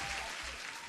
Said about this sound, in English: huge applause for everyone being here